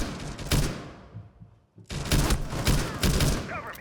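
Bursts of automatic gunfire in Rainbow Six Siege, loud rapid volleys around a brief near-silent pause, then further sustained firing with light thuds.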